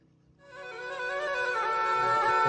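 A motorcycle engine labours uphill on a steep, winding mountain road with sharp bends, starting from near silence and swelling into a loud, steady harmonic drone that keeps building.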